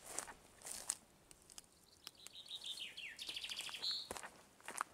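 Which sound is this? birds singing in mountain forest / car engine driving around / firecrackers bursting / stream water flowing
birds singing in mountain forest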